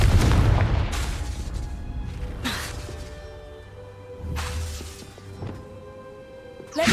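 A Confringo blasting spell detonates in Hogwarts Legacy: a series of sharp booms and crashing impacts with whooshing bursts, spaced a second or two apart, over a low rumbling game background.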